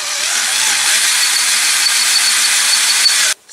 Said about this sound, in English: So far we got one hole drilled,